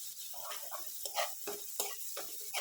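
Butter sizzling in a pan of Chinese veg fried rice, with soft crackle and repeated stirring scrapes in a quiet, irregular rhythm.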